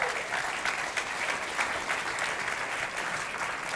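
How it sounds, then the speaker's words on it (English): A room of listeners at a real estate panel event gives a round of applause, dense steady clapping from many hands, moderately loud and continuous without a break. "Give her a round of applause."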